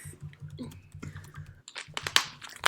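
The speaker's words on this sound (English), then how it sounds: "I hear you over there typing furiously." Fast, furious typing on a computer keyboard, a rapid stream of close, crisp key clicks that pauses briefly and then bursts again with sharper, louder strokes.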